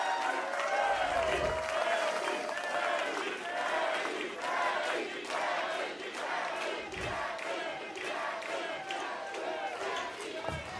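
A crowd at a PBA Tournament of Champions bowling stepladder final roars and cheers continuously, with shouts and scattered claps filling the arena and a few low thumps underneath.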